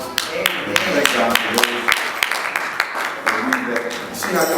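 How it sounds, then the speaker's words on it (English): A church congregation claps during a sermon. Sharp, uneven handclaps come through at close range, with voices speaking over them. "See how y'all clap?"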